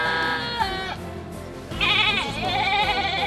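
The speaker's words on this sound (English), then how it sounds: "I'm so thankful for the goat that I received." Goats bleat in repeated harmonic cries, loud and close, on a Haitian farm rebuilding its herds after deadly hurricanes, with one wavering call overlapping another.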